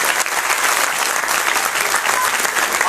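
Loud, dense applause from an audience at a science festival prize announcement, steady clapping filling the whole stretch without pause.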